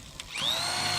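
A power drill drives a side lap fastener into metal roof panels, a brief start followed by a steady high-pitched whir that holds for the rest of the moment.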